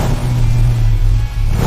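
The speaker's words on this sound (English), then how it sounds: "The exhaust." A modified car's exhaust revs loudly and up close at a car show, a deep continuous growling rumble with a short dip before rising again.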